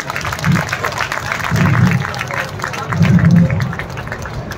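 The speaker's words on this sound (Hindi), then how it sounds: "एक बार जोरदार तालियों के साथ में इनका अभिनंदन करें।" Loud crowd applause at a Rajasthan ministerial employees' mass sit-in protest, dense clapping swelling in waves with cheering and crowd noise throughout.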